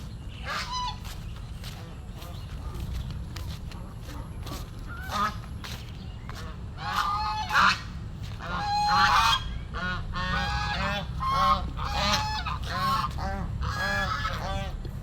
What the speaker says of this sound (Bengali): ওই পাশে দুটি রাজহাঁস দেখা যাচ্ছে ঘুরে বেড়াচ্ছে।